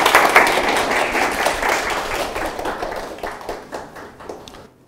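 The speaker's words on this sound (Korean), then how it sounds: "자, 박수로 하나," Lecture hall audience of medical students applauding a guest speaker at a special lecture, dense sustained clapping that gradually thins and fades out over a few seconds.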